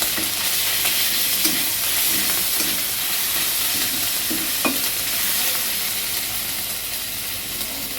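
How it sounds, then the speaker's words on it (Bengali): A teaspoon each of ginger and garlic fries in a pan for a fish roe fritter curry, giving a continuous, fairly loud sizzle with light stirring scrapes and faint clinks. "এটা একটু ভাজা হোক।"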